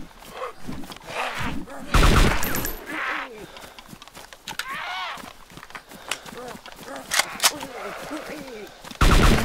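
Gunfire in DayZ crackles in several loud, sharp bursts among sounds of movement, with players talking over the shooting throughout.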